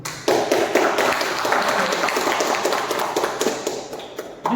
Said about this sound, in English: Can we have the applause going